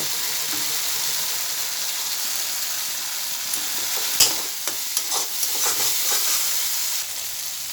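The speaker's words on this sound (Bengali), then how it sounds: "মশলাটা ভাজা হয়ে গেছে তেল ছাড়ছে দেখুন মশলা থেকে তেল ছাড়ছে" Spice paste for a vegetarian ash gourd chorchori frying in oil with green chilli, dried chilli powder and salt, a steady close sizzle with scraping stirs and clinks in the second half.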